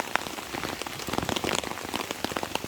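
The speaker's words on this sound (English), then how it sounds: "it's been raining like this for a good" Heavy rain patters steadily onto a hammock camp tarp, a dense, close crackle of drops with irregular louder splats, no voices.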